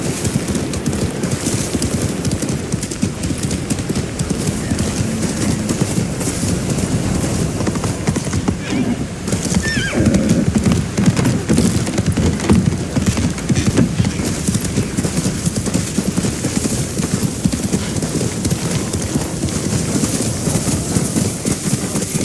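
In the video game Ghost of Tsushima, a horse gallops in a steady, close clip-clop of hooves for a long stretch, with a whinny partway through, and a voice speaks briefly over it.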